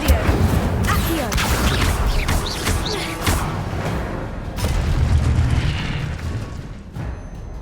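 A fire spell cast in Hogwarts Legacy, heard as dense booming, crackling blasts over a rumbling low roar, with bursts recurring loudly through the whole stretch.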